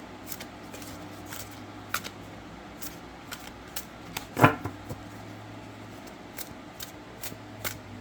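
A tarot card deck being shuffled overhand, giving soft, brief riffling ticks and flicks scattered through a quiet room, with one louder snap near the middle.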